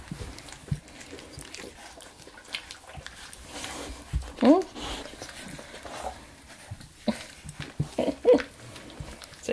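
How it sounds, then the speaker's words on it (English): Boxer puppy growling low and intermittently indoors, with short whiny rises, while someone talks over it close by. "What you growling at me for? You growling at me?"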